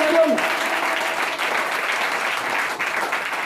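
A church congregation applauds steadily throughout, a dense, even wash of clapping that holds at a constant level from start to finish with no pauses.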